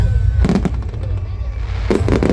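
Eid al-Fitr fireworks show exploding over Katara: two loud clusters of booming bursts rise over a steady low rumble, with a large crowd murmuring in the background.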